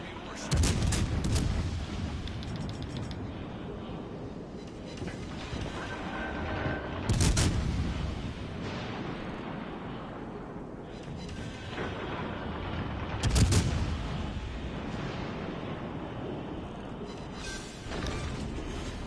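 Heavy naval guns in a video game fire on an enemy warship in a long, dense barrage of deep booms and rumbling blasts, with louder salvos standing out from the continuous roar.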